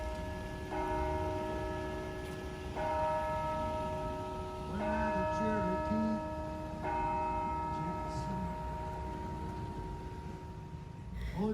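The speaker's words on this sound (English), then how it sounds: "Cathedral bells pealed the hours." Cathedral bells in Santa Fe ring out in slow, repeated peals with long sustained tones, steady and resonant, heard from some distance over a low outdoor hum.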